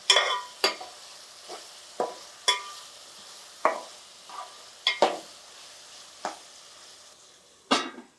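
Chicken and brinjal curry cooking in a pan, with intermittent sharp scrapes and clinks of a spoon stirring against the metal over a soft, steady sizzle, repeated roughly every second or so.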